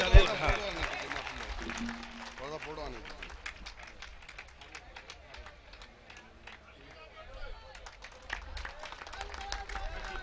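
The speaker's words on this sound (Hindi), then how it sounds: "भाई एक जोरदार तालियों से इन मेहमान हजरात का हिस्सा है।" A crowd at a mushaira poetry gathering in Mahul, Azamgarh, gives a round of applause for the guests. The scattered, busy clapping runs under chatter and a voice, swelling again near the end.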